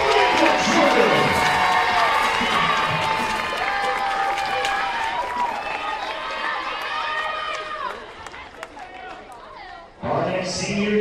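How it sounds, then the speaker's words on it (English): A college basketball crowd cheers and claps for a senior player at a West Texas A&M versus Texas A&M-Kingsville game, loud shouting and whistling in a big gym that gradually eases before a fresh swell at the end. "Buff Nation, give a big round of applause for number 23, Samantha Jordan."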